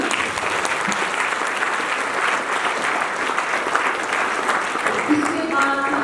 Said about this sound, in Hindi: अपनी माँ का तो रिस्पेक्ट हम जोरदार तालियों से कर सकते हैं।